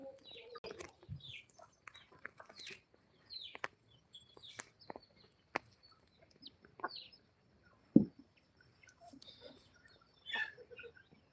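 Country chickens on a poultry farm, scattered clucks and short calls coming and going in sparse bursts, some near, with a louder squawk midway.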